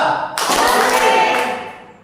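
A group claps a short rhythmic pattern in a classroom or training session, loud, close, sharp hand claps bursting in and fading toward the end.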